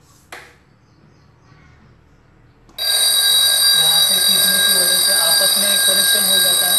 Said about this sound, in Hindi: कनेक्शन हो जाता है और यह अलार्म बेल बजने लगती है।